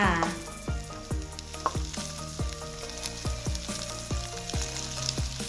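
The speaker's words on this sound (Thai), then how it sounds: "ใส่ข้าวสวยลงไปจำนวนหนึ่งถ้วยนะคะ คลุกเคล้าต่อไปเรื่อยๆค่ะ" Shrimp fried rice sizzles steadily in a hot wok while a spatula scrapes and tosses it in a regular rhythm of sharp metallic strokes, close and continuous.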